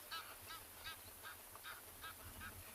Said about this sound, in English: You might be able to hear some Egyptian geese in the background busy honking